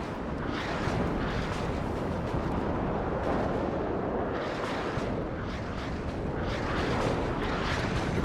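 Cluster mortar artillery strikes land in the WARNO strategy game, a dense, continuous rumble of overlapping explosions and crackling blasts that swells and fades without pause.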